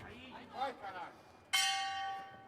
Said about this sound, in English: There goes a bell at the end of the round.